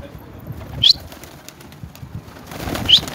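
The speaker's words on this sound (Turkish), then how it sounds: "tembel kuşlarımızı bir uçurmayı deneyelim" Pigeons in a coop give two brief flurries of wing flapping, near and moderately loud, against a soft background with faint low murmuring and no clear talk.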